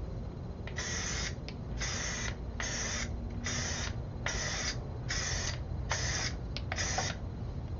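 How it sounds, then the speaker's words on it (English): Short repeated hisses from an aerosol spray can priming miniature wargaming figures, about nine bursts in a steady rhythm over a constant background hum, close and fairly loud. "One last spray."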